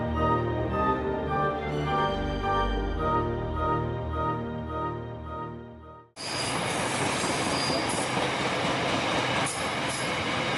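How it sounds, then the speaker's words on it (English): A coal train with two locomotives rumbles past on New Zealand's Midland Line, first a deep droning engine hum, then a loud, continuous rush of wheels and rattling wagons close by. "the trains continue with 2 locomotives towards Lyttelton"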